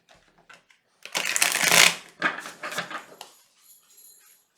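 Tarot cards being shuffled by hand, a soft papery riffle that swells for about a second, then trails off in a few lighter, quieter shuffles, close and alone with no talk.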